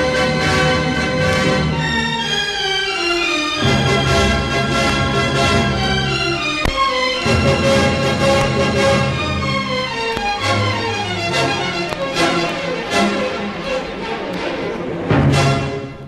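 Full orchestra in the climactic passage of Tchaikovsky's Pathétique symphony, rushing scales accelerating into a dense whirlwind of strings and winds, loud and sustained throughout.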